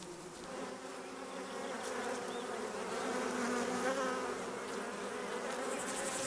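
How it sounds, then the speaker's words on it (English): Honey bees buzzing densely inside a colony, a steady, close, continuous hum that swells slightly midway and carries on alone without voices. "All the bees must work hard for the survival of the colony."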